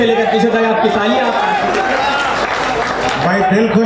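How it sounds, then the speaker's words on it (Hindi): An audience at a poetry recital of verses about Ram applauds and cheers loudly and continuously, with voices mixed into the crowd noise throughout. "एक बार आगे से लेकर पीछे तक आपकी तालियां"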